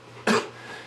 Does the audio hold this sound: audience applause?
no